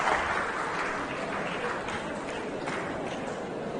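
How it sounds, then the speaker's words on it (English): Audience applause at a University of Cape Coast speech, a steady dense wash of clapping that holds at an even level throughout without any talk over it. "I think UCC deserves a round of applause."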